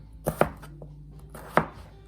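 A knife chops potatoes on a large cutting board while making cauliflower potato soup: three sharp, close chops, two quick ones near the start and a single one later, with no talking.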